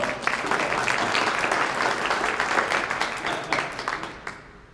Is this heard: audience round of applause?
yes